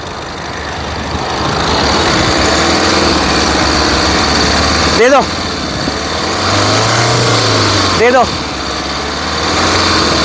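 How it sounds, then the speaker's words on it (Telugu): A 2019 Tata Nexon XZ Plus engine idles steadily at close range, with a brief voice speaking briefly over the hum. "ఇంజన్ యొక్క నాయిస్ చాలా సైలెంట్గా అయితే ఉంది"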